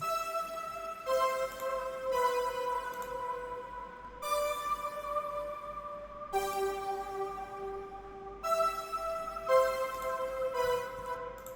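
A soft, sustained synthesizer pad, the Earth Cloud preset from Analog Lab 5, plays slow chords that change every couple of seconds, airy and ambient, with no voices.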